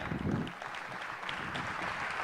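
Audience applause, a short faint spatter of clapping that carries on evenly for a couple of seconds.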